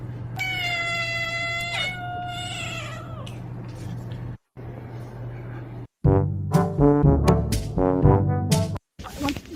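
A cat meows repeatedly and loudly, starting with long wavering calls and then a burst of several short, insistent meows close to the microphone, over a steady low hum.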